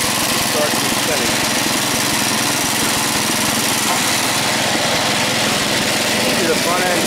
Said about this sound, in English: If you engage the blade, it starts spinning.